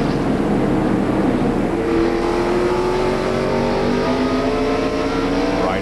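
Dale Jarrett's fourth-place NASCAR race car at the 1996 Tyson Holly Farms 400 roars past with a loud, steady engine drone whose pitch climbs as it accelerates, while other engine noise fills the background.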